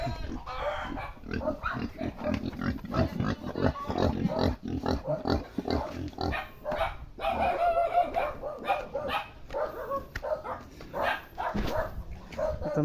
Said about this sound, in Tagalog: Ay, baboy sila.